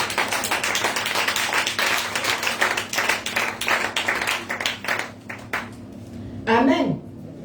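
A church congregation at a Thursday teaching service claps in a dense, steady run of hand claps mixed with voices, tapering off near the end before a brief louder swell.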